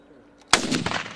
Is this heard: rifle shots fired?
yes